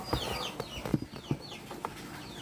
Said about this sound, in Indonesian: karena ayam-ayam saya sudah menunggu untuk diberikan makan